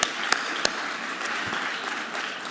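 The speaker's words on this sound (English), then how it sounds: "Give yourselves a round of applause for coming out tonight" Students at a communications studies speech competition give themselves a round of applause, a steady, moderately distant wash of clapping with a few sharper close claps near the start.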